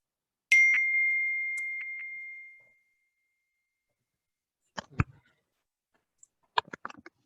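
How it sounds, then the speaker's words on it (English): A single phone notification ding rings out clearly at a planning board meeting, its tone fading over about two seconds, followed later by a few soft clicks and knocks in an otherwise quiet room. "It's somebody's phone keeps dinging, so it's a little difficult."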